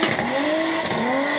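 A drift car in Formula DRIFT Japan qualifying at Sportsland Sugo, Miyagi, sounds close and loud, its engine note sliding and dipping as the clutch is kicked, with tire noise mixed in and no voices.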